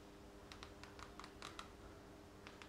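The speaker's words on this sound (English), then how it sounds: "And we can typing as well." Keys tap on an I8 mini wireless keyboard, about a dozen light, quick clicks in an irregular rhythm, quiet and close, with no talking.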